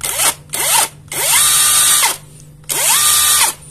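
Electric impact wrench fitted with a Modern M65 module runs in four loud, close bursts, each with a rising whine into a steady hammering buzz, cycling between loosening and tightening with short gaps.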